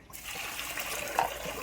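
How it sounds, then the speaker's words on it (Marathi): Water poured into a vessel to wash wheat, a brief steady splashing trickle close by, with no talking. "आता याला चांगलं पाणी घ्यायला लागते गव्हाले धुवासाठी।"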